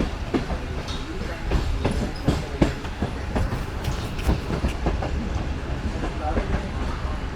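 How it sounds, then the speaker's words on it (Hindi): Shalimar Express running along the line between Bahawalpur and Karachi, a steady rumble of wheels on track with irregular clicks from the rails. A voice talks over the running noise. "नहायत ही सुकून से और प्यार से ट्रेन हमारी गुजर रही है शारजाह से।"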